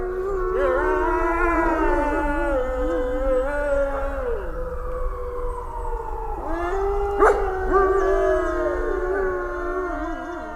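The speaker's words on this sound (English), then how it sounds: "her surviving companion, this wolf dog you hear named Kaitis." Long, wavering howls from a wolf dog rise and fall in layered pitches, with a second voice joining partway; close and sustained, with no talking.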